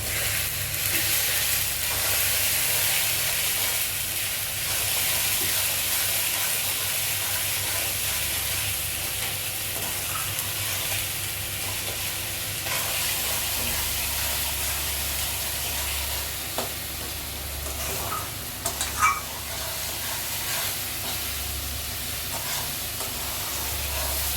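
Ginger, garlic and green chili paste sizzles in a frying pan with chopped onion and tomato, giving a steady, close hiss of frying with occasional stirring scrapes throughout.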